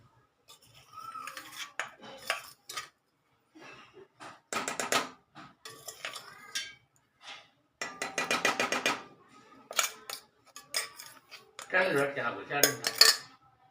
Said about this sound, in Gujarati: આપણે એને હલાવી લઈશું.